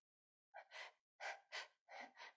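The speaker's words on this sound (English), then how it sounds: "you need to take low breath, a low breath" Three pairs of deep inhalations taken close to the mic before playing a shinobue bamboo flute, each a soft breathy rush in quick succession with short silent gaps, no talking.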